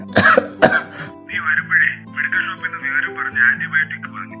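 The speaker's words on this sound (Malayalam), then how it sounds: "നല്ല ചുമയുണ്ടല്ലോ" A man coughs hard twice, close and loud, with a bad cough that persists despite medicine, followed by a steady tonal background of music or hum with no speech.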